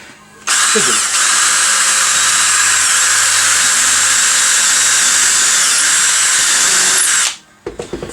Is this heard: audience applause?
no